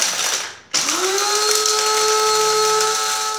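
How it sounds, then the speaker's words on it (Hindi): An electric food chopper runs at close range, a brief dip, then a loud steady whirring motor whine with a sustained tonal hum as it finely grinds ingredients, no talking. "इसको चॉपर में डालेंगे, इसको बारीक पीसना है।"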